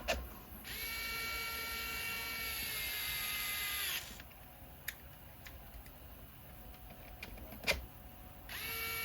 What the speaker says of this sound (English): So we're going to take our M3x20s and drive them all the way through the bumper and into the bed.